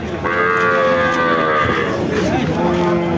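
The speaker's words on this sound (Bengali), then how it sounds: "আপনারা দেখতে পাচ্ছেন গাভীর সাথে বাছুর" Cattle at a cow market, including a cow with her bull calf, mooing loudly and close in one long drawn-out low call that rises and falls, with livestock market noise beneath.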